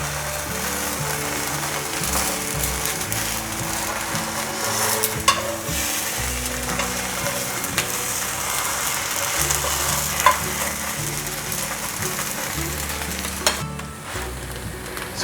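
Vegetable omelette with eggplant sizzling steadily in a pan, a close, continuous crackle of frying with occasional scraping and tapping as the egg is handled, easing off briefly near the end.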